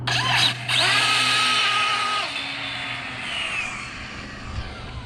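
Arrma Infraction XLX2 RC car on a TP 4070 motor, a high electric whine that rises sharply in pitch with each burst and then falls as the car speeds away, close and loud with no talk.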